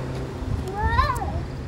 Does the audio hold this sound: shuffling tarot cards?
no